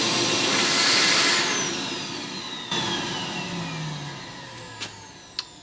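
A shop vac mounted in a garage runs with strong suction, a loud whooshing whine that swells early and then tapers off, with a few short knocks near the end.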